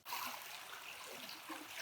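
A creek runs steadily past a fence line on a cattle property, a continuous faint broadband rush and trickle of flowing water, heard from a little distance without any talking.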